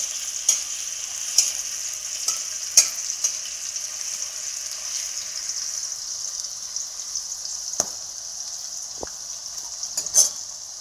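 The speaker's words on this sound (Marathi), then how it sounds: "हे छान परतला पाहिजे मिरच्या आणि लसूण।" Garlic and green chilies fry in hot oil in a pan, a steady bright sizzle held throughout with occasional sharp spatters and scrapes as they are stirred, with no voices over it.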